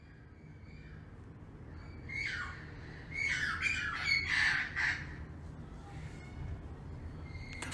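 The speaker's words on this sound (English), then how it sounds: "if I have to hear these parrots for too much longer" Invasive parrots living in a big tree outside a house squawk loudly in a burst of harsh, repeated calls over a low background hum, rising mid-clip and then trailing off.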